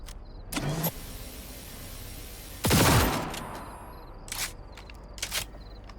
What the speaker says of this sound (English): I'll bring the car around.